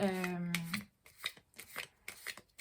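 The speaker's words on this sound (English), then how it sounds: "So I will shuffle while I am speaking" Tarot cards being shuffled by hand in quick riffling bursts, a steady series of short papery snaps after a brief tone at the start, close and fairly quiet.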